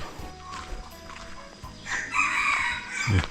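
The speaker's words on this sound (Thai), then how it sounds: "เสียงไก่หันจะแซว" A rooster crows in a Phu Thai village in Bualapha, Laos, the drawn-out call swelling midway through and standing out over a busy outdoor background.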